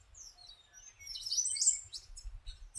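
Birds call in the dense foliage of a cloud forest in Monteverde, Costa Rica, with a few thin, high chirps and short whistled tweets, fairly faint and distant against a quiet low rumble.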